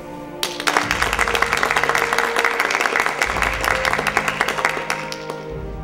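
A graduating class applauds itself at a ceremony, a burst of dense clapping that starts abruptly and holds steady for several seconds before easing off.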